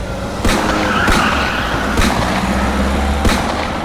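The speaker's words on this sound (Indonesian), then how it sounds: "lelaki itu tancap gas" Sound effect of a car speeding off with tires skidding: a sustained roaring engine and tire screech, punctuated by several sharp bangs, loud and close with no voices.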